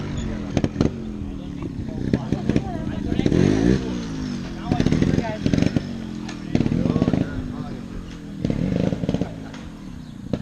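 Trial motorcycle ridden slowly in first gear on a beginner trial course, its low engine putter rising and falling in short bursts of throttle under a man's steady instruction.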